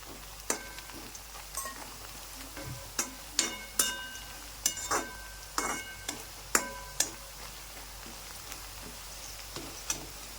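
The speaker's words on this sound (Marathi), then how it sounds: "मिरची चांगली तळून घेऊ आपण" Green chilies fry in hot oil over browned onion and spices, giving a steady close sizzle broken by a string of sharp metallic clinks and taps from a stirring spoon against the pan.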